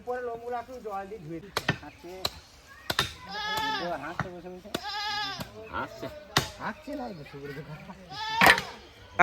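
Goats bleat repeatedly in short wavering cries at a butchering site where meat is being cut for a large wedding feast in Bankura, interrupted by sharp chopping knocks, with no clear talk.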